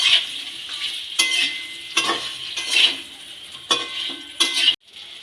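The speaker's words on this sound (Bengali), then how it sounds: "দিয়ে খুব ভালো করে নেড়ে নেব" Raw mango pickle with a little salt is stirred in a frying pan, a steady bright sizzle under repeated scraping strokes of a spoon against the pan, close and fairly loud, ending abruptly.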